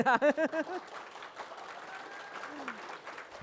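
A quick burst of voiced cheering gives way to scattered, light clapping from a few people, soft and fairly even, with low murmuring underneath.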